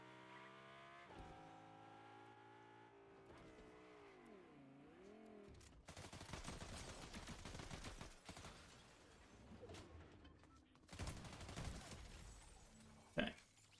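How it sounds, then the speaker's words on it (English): Bursts of gunfire in the video game Fortnite crackle in rapid volleys alongside engine-like revving tones, growing denser in the second half with a sharp loud shot near the end. "A lot of gunfire up here."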